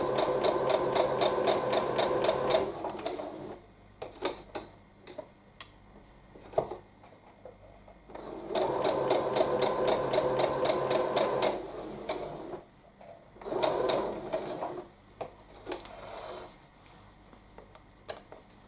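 A sewing machine stitches quilt pieces in two long steady bursts of rapid, even ticking, with shorter stops, starts and clicks between runs and no talking.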